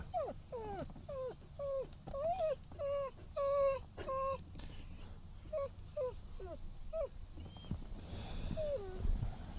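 A dog at a dog park gives a run of short whines and yelps, several rapid bursts in a row, fairly close, with a pause and then a few more high whimpers and a falling whine near the end.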